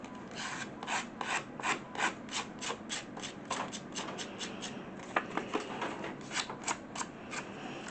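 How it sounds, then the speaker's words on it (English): Repeated rhythmic rasping scrapes of scissors dragged along a paper picture's edge to distress it, close and steady with a few sharper strokes near the end. "I'm going to distress the edge of this picture"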